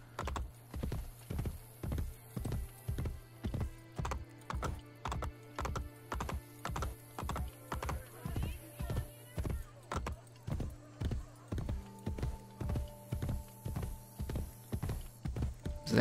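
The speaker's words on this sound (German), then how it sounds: "So, mein eisernes Pferd. Reite geschwind." A horse gallops in Assassin's Creed Brotherhood, its hoofbeats landing in a fast, even clip-clop rhythm that stays steady and close for the whole stretch, with no talk over it.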